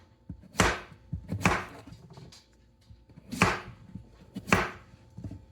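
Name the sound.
knife chopping zucchini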